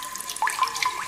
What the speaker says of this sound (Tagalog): Lagay ng tubig.